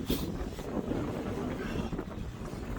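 Cold wind at Lake Havasu, Arizona, on a winter fishing trip, a steady loud rumble buffeting the microphone with faint water and boat noise underneath and no clear speech.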